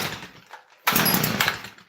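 A small two-stroke engine fires up with a sudden loud, buzzy burst, revving briefly close by after a quieter moment of cranking.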